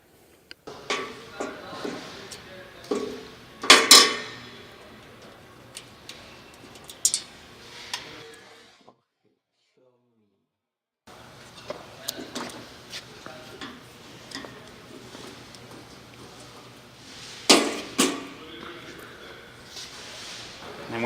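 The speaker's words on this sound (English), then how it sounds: "So you're going to start by removing the 2 Allen bolts," Metal clicks and ticks as two Allen bolts are loosened from the electrical cabinet of a Laminator 1600E, sparse taps and scrapes with a silent gap midway, close and fairly quiet.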